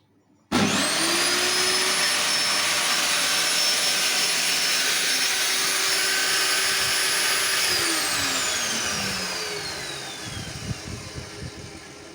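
A Modern M-608 table saw motor switches on and runs at a steady, loud high-pitched whine for several seconds, then spins down as the pitch drops and the sound fades near the end.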